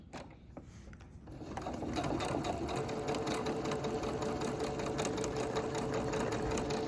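A sewing machine stitches elastic onto a fabric face mask, starting after a quiet second and then running in a steady, fast, continuous whir close by until the end.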